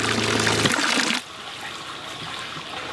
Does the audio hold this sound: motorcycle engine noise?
no